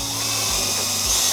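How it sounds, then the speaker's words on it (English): Small high-pitched electric drill boring a tiny pilot hole for a gate ring latch keep on a domestic gate, loud and close, with the motor whining steadily and dipping briefly under load. "now we're ready to drill pilot holes for our keep"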